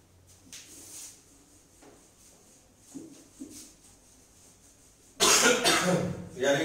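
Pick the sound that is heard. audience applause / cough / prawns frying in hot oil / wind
cough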